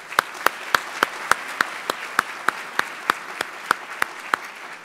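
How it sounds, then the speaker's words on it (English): Clapping from an audience comes as sharp, evenly spaced claps, about three per second, over a quiet room hum, steady and not building into a thick roar. "Would you please stand so we can give you a round of applause?"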